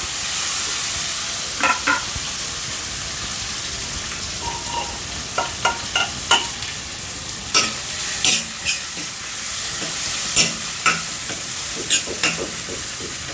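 Green chili, curry leaves and onion sizzle loudly in a hot pan for a raw mango chutney, a dense continuous hiss broken by sharp spoon scrapes and clicks against the metal.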